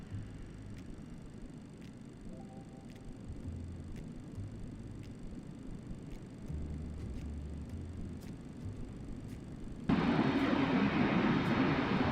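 Airliner engines spooling through a takeoff roll in a flight simulator, a steady broadband roar with low rumble that jumps sharply louder near the end as thrust and noise swell.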